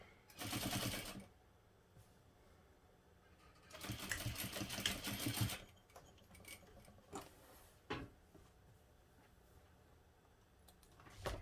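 Sewing machine stitching a quarter-inch seam on a fabric backpack, running in two loud bursts of steady whirring with quieter handling, clicks and fabric rustle between.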